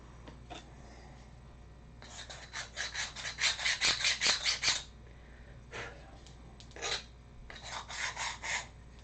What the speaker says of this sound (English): So we'll sand that square.